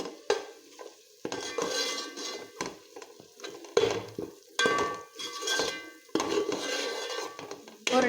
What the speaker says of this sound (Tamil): ஆட் பண்ணிவிட்டு நல்லா கலந்து விட்டுக்கலாம்